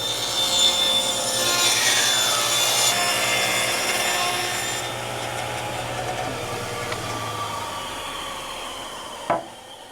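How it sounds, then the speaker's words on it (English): A table saw with a tapering jig cuts plywood, giving a loud, sustained whining cut that drops to the motor running on and ends with a brief knock. "I've just rigged up this quickie tapering jig for the table saw."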